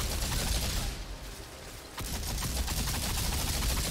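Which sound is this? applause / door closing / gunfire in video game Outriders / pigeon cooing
gunfire in video game Outriders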